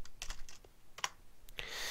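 Quick, crisp keystrokes on a computer keyboard type a short layer name in desktop layout software, a close run of clicks ending in a brief rustle.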